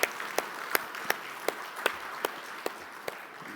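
In a church, a few people clap sharply in a slow, slightly uneven rhythm over a quiet room, with each clap standing out clearly and fairly close.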